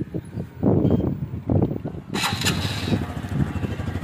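A TVS Sport motorcycle engine, after 20,000 km, turns over and catches, settling into a low, uneven rumbling idle close by.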